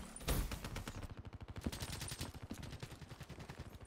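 Rapid automatic fire from a VMP submachine gun in a video game, a dense, steady stream of loud close shots rattling continuously for several seconds with brief uneven pauses.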